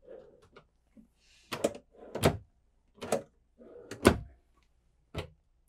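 Drawers and cabinet doors in a 2025 Newmar Bay Star RV are opened and shut, a series of about five sharp knocks and clunks spaced roughly a second apart, with soft sliding rustles between them, close by and alone.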